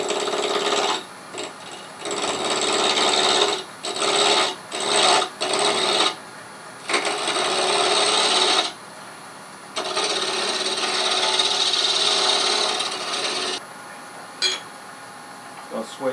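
A wooden spindle turns on a lathe as a 3/8 inch spindle gouge cuts it into an egg shape, giving loud rasping scrapes in repeated bursts with short gaps between passes.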